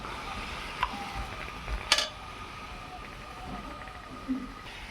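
Mustard-oil-marinated mutton goes into a pan at a family picnic, giving soft sizzling and a few sharp clinks of a spoon against the pan as it is stirred.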